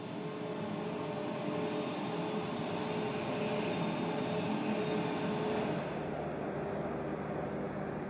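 A train travelling on the railway near Komati Port, at the border between South Africa and Mozambique, makes a steady rumbling roll with faint squealing wheel tones, easing off slightly toward the end.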